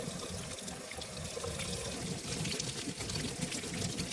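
Steady rush of tap water running in a home kitchen sink while hands are washed beneath it, a constant close splashing hiss with slight fluctuations and no voices.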